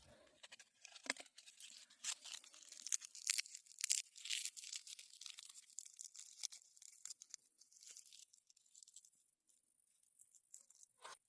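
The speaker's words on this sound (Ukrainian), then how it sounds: "Зараз ось такі ось коробочки. Зараз одну відкрию," Papery husk of a garden fruit physalis being torn open by hand, with quiet, close crinkling and tearing crackles in irregular bursts that fade toward the end.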